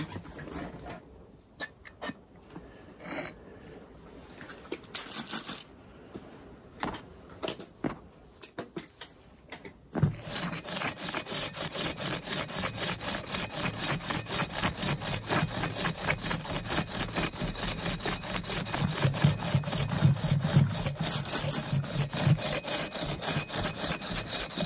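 A hand-powered bow drill grinds into a gemstone for lapidary work, a steady back-and-forth rasping stroke that starts faint and sparse, then turns continuous and fairly loud, repeating rhythmically at close range with no talk.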